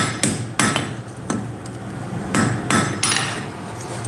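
Blacksmith's hammer striking hot metal while forging a triskele pendant: sharp ringing blows at an irregular rhythm, about eight strikes, close and loud.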